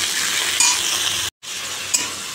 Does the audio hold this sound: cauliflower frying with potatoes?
yes